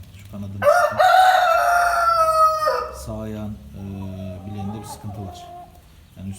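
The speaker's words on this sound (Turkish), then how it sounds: "Herhalde bakın ötmeye de çalışıyor, ötemiyor." A rooster with a bad leg attempts a strained, hoarse crow that breaks off partway, followed by lower clucking calls, close by with someone talking around it.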